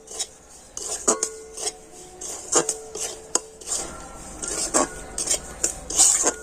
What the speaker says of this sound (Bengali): ঘিয়ের ওপর সুজিটা আমি একটু হালকা করে ভেজে নেব